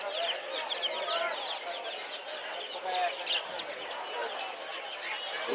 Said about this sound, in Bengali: প্রচুর হাঁস মুরগি আছে